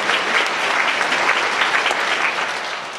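A church congregation at a service for the deaf applauds together in a dense, steady wash of clapping that holds at an even level for the full stretch.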